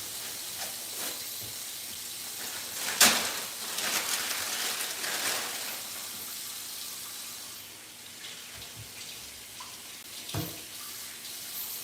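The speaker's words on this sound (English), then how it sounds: "I'm gonna put some tomatoes and sweet pepper. So I need to get that rinsed up." A kitchen tap runs steadily while tomatoes and sweet pepper are rinsed under it, with the water stream splashing and shifting and a few sharp clatters and knocks nearby.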